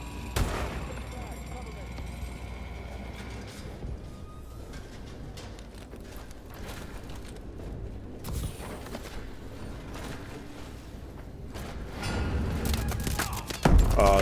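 Video game gunfire in an online clan match rattles through the scene as repeated sharp shots and bursts, some close and loud, others fainter, mixed with mechanical clatter while players talk over it.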